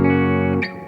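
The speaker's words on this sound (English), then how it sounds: "Definitely a bigger reverb than a spring reverb," A guitar amplifier's reverb, cranked to full, rings out with a sustained distorted note that cuts off and leaves a brief washy tail, loud and close with no talk.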